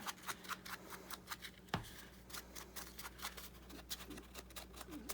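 Scissors snip along the edge of a paper envelope, a quiet series of quick, close cuts and light paper rustles in an otherwise still room.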